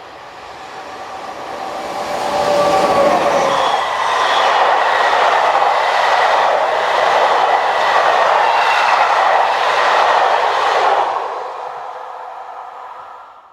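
French BB 22364 electric locomotive hauls a delayed passenger train from Dijon toward Lyon, rising from a distant approach into a loud, steady rumble with rhythmic wheel clatter as it passes close, then fading away.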